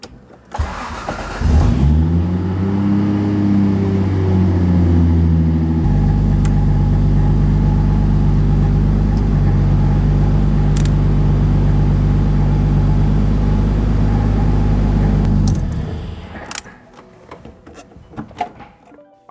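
A Toyota Supra MK3 with a 1JZ engine cranks briefly, catches and revs, then settles into a steady, loud idle that continues close to the microphone before cutting off, followed by a few faint clicks.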